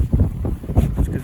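Gusty wind buffets the microphone outdoors at a winter campsite, a low rumbling roar that swells and eases in bursts with no voices.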